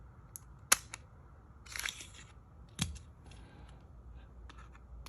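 TOUGHBUILT Reload utility knife having its blade magazine swapped: a few sharp plastic-and-metal clicks and snaps, one crisp click early, a scraping rattle in the middle and another snap later, close and fairly quiet, with no talking.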